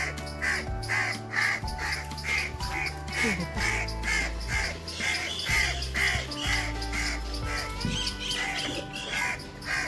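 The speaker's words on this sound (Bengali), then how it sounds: "এখন কাকটা এরকমভাবে কাকা কাকা করছে" A crow caws loudly and repeatedly at close range, harsh calls coming in a steady insistent rhythm beside a dead chick on the ground.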